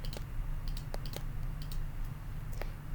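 A computer mouse clicks softly and irregularly during photo retouching in Photoshop, isolated light taps spread over a quiet, steady room hum.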